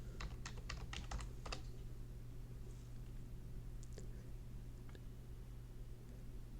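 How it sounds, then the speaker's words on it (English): Quiet, quick clicking keystrokes on a computer keyboard, a rapid run of about eight taps followed by a few scattered presses, over a steady low hum. "In the search bar, type Copilot."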